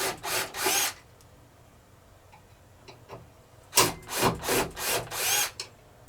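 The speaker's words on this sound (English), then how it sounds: "And remove these two screws right here." Two screws are backed out of a Horizon treadmill near its rear roller, giving close, quiet squeaky scraping bursts: two short bursts, a pause with faint clicks, then a rapid series of turns.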